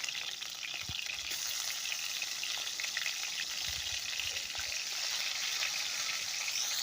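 Chicken pieces sizzling in hot oil in a home kitchen, a steady bright frying hiss with occasional soft pops and stirring clinks, fairly quiet and close, no speech.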